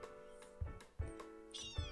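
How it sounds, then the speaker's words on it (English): A plump female house cat meows several times up close, short repeated cries in quick succession. "Get out of there, cat!"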